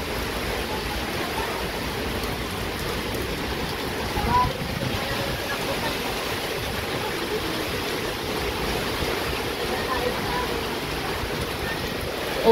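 Strong typhoon wind roars in a continuous, dense rush of noise, loud and unbroken throughout, like heavy surf or rushing water, with no clear voices.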